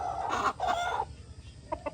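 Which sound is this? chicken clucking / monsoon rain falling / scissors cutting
chicken clucking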